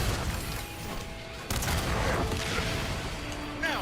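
A grenade detonates in the action game Granblue Fantasy Relink, a sharp blast at about one and a half seconds followed by crackling, rumbling battle noise and layered combat effects.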